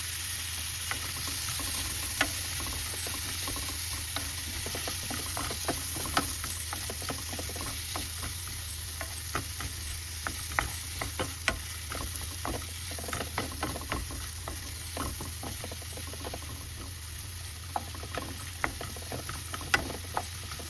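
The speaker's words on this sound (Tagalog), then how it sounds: "Tapos haluan ko lang ng mushroom." Shrimp frying in a pan as mushrooms are stirred in: a steady, close sizzle with scattered clicks and scrapes from the stirring, running without pause and with no voices.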